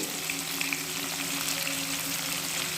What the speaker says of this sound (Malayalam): നമ്മുടെ മീൻ ഫുള്ളായിട്ട് ഞാൻ ഇതിലേക്ക് ഇട്ട് കൊടുത്തിട്ടുണ്ട് കറി ഞാനിവിടെ പൊരിച്ചെടുക്കുകയാണ്